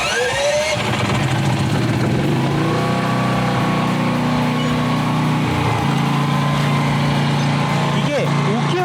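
A low-cost portable generator runs while powering a 3kW welder, its close, loud engine holding a steady drone throughout.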